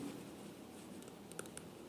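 Pen writing an accounting journal entry on paper, soft continuous scratching strokes with a couple of small taps, close and quiet, no talking.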